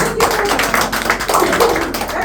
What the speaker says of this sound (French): ça mérite un grand applaudissement